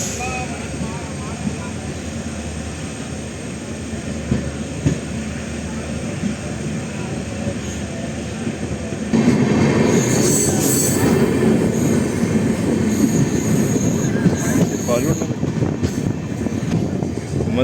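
The new Mayiladuthurai to Karaikudi passenger train arrives during an inaugural service ceremony: a continuous rail rumble with squealing wheels that grows louder partway through, with voices in the background.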